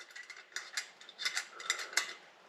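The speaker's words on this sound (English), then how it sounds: "And I will have to loosen some of the spokes" A spoke wrench loosens spokes on a motorcycle wheel during lacing and truing, giving quiet, close clicking and ratcheting metallic ticks in quick irregular bursts.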